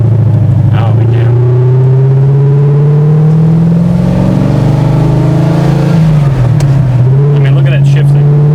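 A 1972 De Tomaso Pantera pulls hard under acceleration, its engine note climbing through quick hot shifts with a brief dip between gears, loud and close from inside the cabin as people talk over it.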